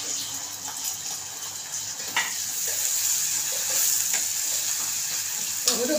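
Tomatoes sizzling in a frying pan of hot oil while they are stirred, a steady bright hiss broken by a few scraping stirs, close and fairly quiet with no talking.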